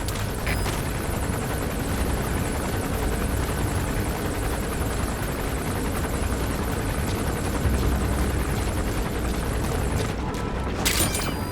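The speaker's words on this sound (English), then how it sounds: "Looks like the arms dealer's chopper is gonna patrol for the security forces." An arms dealer's helicopter flies overhead on patrol in the video game Metal Gear Solid 5: The Phantom Pain, a steady, loud rotor roar that fills the whole stretch with a dense, unbroken wash.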